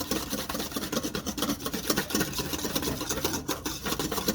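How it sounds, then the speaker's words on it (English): Hollandaise sauce whisked steadily in a bowl, a continuous dense scraping and rubbing texture with fast irregular strokes, close and fairly loud, with no talking. "we're probably gonna whisk this for like 1 more minute"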